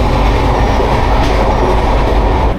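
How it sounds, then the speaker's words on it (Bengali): The Dhauli Superfast Express between Puri and Shalimar rumbles steadily at high speed, with loud, continuous wheel and carriage noise, heard from on board. "দারুণ স্পিড টানছে এখন ট্রেন"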